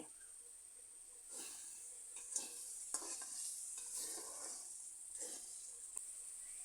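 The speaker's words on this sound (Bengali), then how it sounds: "মশলাগুলো কষিয়ে নিচ্ছি দেখুন মশলাগুলোর উপরে তেল দেখা যাচ্ছে" Spice paste stir-fried in oil for egg curry gives a faint, steady hiss of frying, broken by a few soft scrapes of the spoon through the thick mixture, heard alone.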